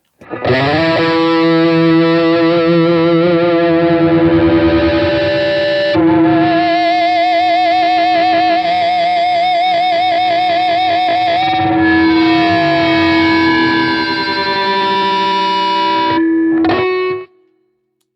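A heavily distorted electric guitar through a Blackstar IDX amp's overdrive channel rings out in sustained overdriven chords and bends, loud and close, with a shimmering delay effect, then cuts off abruptly.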